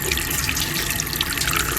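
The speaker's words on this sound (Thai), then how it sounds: "น้ำไหลอยู่" Tap water runs steadily into a sink in a campsite bathroom at Chan Ta Then Waterfall, Chonburi, a constant hissing splash with no pauses and no voices.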